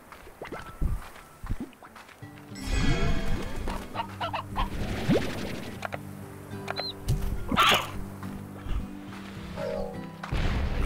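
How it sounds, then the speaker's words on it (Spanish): A stony hen in the video game Slime Rancher clucks repeatedly over steady game music, a close, busy run of chicken clucks and squawks lasting several seconds. "Gallina pétrea."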